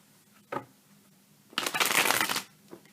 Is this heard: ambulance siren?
no